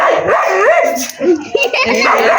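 A dog barks and whines amid people talking close by in a village yard, its yelps mixing with the voices throughout.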